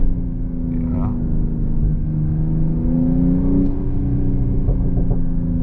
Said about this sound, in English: Also here, shifting down again for you.